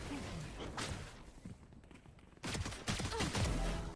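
Quick bursts of Ghost pistol fire in a video game, scattered shots that fade out midway and then return louder and denser in the final second and a half.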